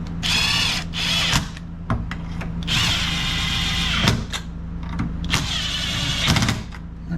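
Power drill snugging up coilover strut bolts on a 1984 Bertone X1/9's front suspension: several loud whirring bursts of a few seconds each, separated by short pauses, close to the microphone.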